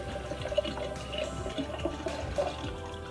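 An American Girl toy kitchen set plays a recorded water sound effect, a short, close burst of running, trickling liquid lasting a few seconds.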